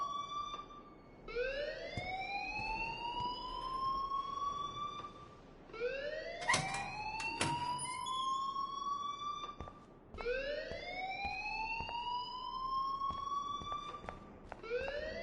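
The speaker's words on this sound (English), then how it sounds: "please turn off that alarm since that's your job" An alarm in the video game Life is Strange wails in repeated rising siren sweeps, each climbing then holding before cutting off, about three cycles with short sharp bursts between, moderately loud and without talk.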